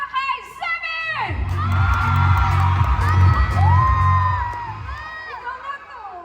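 A fiesta crowd applauding and cheering loudly, with shouts and whoops swelling over a steady wash of clapping, nearby and sustained for several seconds, with a voice over a microphone at the start.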